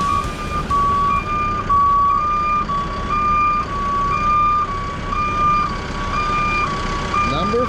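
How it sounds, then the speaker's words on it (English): A new truck drives at an excavation site while its reversing alarm beeps steadily and repeatedly over continuous engine rumble, close and fairly loud. "Driving the new truck."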